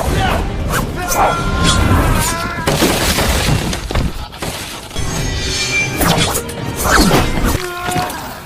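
Close-quarters sword fighting from the film Ninja Assassin, a dense barrage of sharp metallic clashes, whooshes and crashing impacts over a loud action soundtrack, nearly nonstop throughout.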